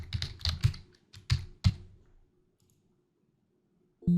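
Fingers type a template name on a computer keyboard in a burst of close, sharp key clicks lasting about two seconds, followed by near silence.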